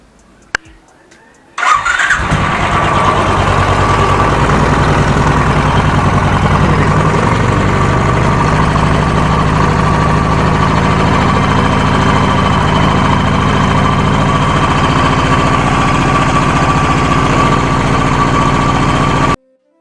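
A Royal Enfield 350 motorcycle engine cranks and fires after a brief quiet moment, then settles into a loud, steady, thumping idle close by that runs until it cuts off at the end.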